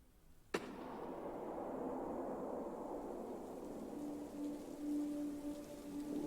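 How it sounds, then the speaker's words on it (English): Steady hiss of rainfall in the video game Minecraft fills the scene after a sharp crack at the start, with a faint tonal hum entering near the end. "it's now raining for the first time"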